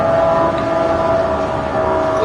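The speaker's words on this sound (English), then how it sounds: "The engine sounds amazing." Gr.2 race car engine in the racing game Gran Turismo 7, running at its stock setting: a steady, loud, sustained tonal drone holding a constant pitch throughout with no break.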